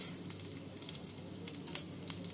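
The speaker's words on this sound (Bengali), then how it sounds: "এবার তেলটাকে ভালো করে গরম করে নিয়ে এর মধ্যে দিয়ে দেবো ফোড়ন।" Dried red chillies, bay leaves, cumin seeds and cardamom pods sizzle in hot oil as a spice tempering, a quiet, continuous crackle sprinkled with small sharp pops.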